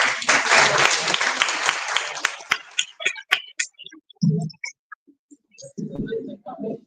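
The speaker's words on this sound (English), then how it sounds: "A round of applause." Audience applause at the Alternative Mining Indaba in Cape Town, a dense burst of clapping that fades after about two and a half seconds into scattered claps, with talking following.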